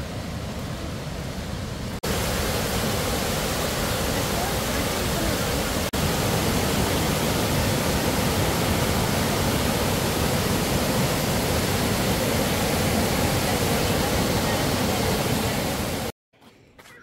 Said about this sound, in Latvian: Un nākamie ūdenskritumi ir klāt.